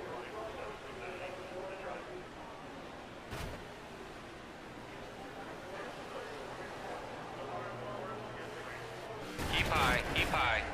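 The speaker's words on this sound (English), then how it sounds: "That wreck took out a bunch of cars." A multi-car wreck in the racing game NASCAR '15: a steady broadband roar of engines and track noise, then a sharp impact burst and a louder, harsh crunching clatter near the end.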